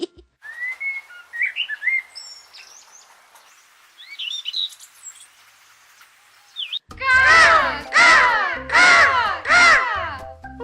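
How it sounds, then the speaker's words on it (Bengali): Crows caw loudly and close in a rapid burst of four harsh calls near the end, after a quieter stretch of whistle-like bird chirps. "সাত চকলে কাকগুলো এভাবে চিৎকার করছে কেন"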